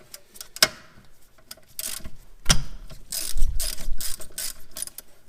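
A ratchet fitted with an H7 Allen key socket loosens the brake caliper slide pins on a BMW E46, E36 or E30, giving close, loud clicking ratchet strokes in bursts along with a sharp metallic crack as a pin breaks free.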